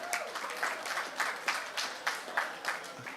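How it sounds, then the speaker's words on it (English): Applause from a crowd at an outdoor market day event honoring farmers, a moderate, fairly distant patter of clapping with regular swells, no speech over it. "Let's give our farmers a round of applause"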